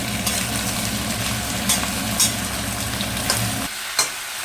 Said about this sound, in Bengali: আলু কাটা দিয়ে দিচ্ছি। নাড়াচাড়া করবো আমি।